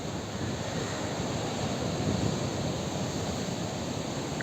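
Large ocean waves at Paranggupito beach in Wonogiri, a continuous broad roar of surf mixed with wind buffeting the microphone, moderately soft and steady with a slight swell in the middle.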